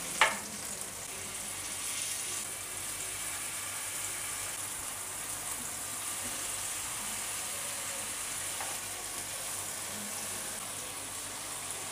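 Eggs frying in a pan hiss in a steady, moderate sizzle throughout, with a small clatter at the very start and no one speaking.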